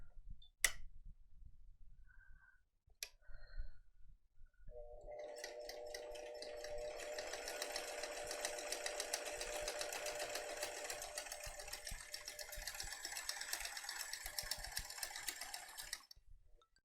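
A Bernina sewing machine runs a zigzag stitch on a grocery tote, a fast steady whirring chatter for about eleven seconds, preceded by a few clicks and brief quiet handling.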